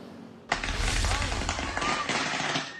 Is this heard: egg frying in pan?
no